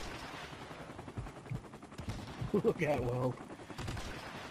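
Sniper rifle shots in Call of Duty, a few sharp gunfire bursts heard among game noise while a player talks excitedly over them.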